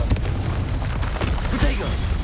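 A Confringo spell blast explodes in Hogwarts Legacy, loud booming bursts over a dense, continuous wash of combat noise with a sharp hit near the start and another past the midpoint.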